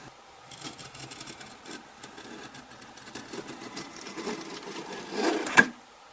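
A Stanley 151 spokeshave scrapes across wood in a series of quiet, rasping strokes that grow a little stronger, ending in a sharp click or knock near the end.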